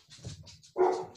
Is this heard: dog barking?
yes